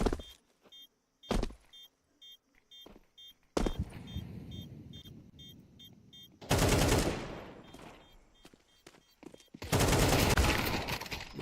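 Gunfire from a MAC-10 and an AK in a competitive Counter-Strike-style esports match: loud bursts of rapid automatic shots in two long volleys, with sharp single cracks and short clicks between them.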